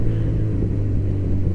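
A car engine holds a steady, loud low rumble at close range, with only slight swells in revs and no talking.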